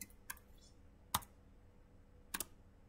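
Typing commands on a computer keyboard while configuring a Cisco device: a few scattered sharp key clicks, including a louder double press near the end, sounding fairly close over a quiet background.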